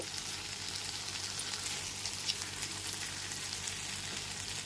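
Fried eggplant with garam masala powder sizzling in a pan, a steady even frying crackle with faint gentle stirring, close and moderately quiet, no voices.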